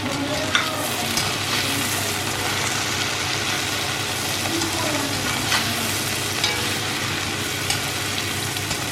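Toasted, cubed bread pieces and caramelized brown onions are stirred and fried together in a pan for rice and bread pulao. A steady, close sizzle runs throughout with occasional scrapes and clinks of the spoon.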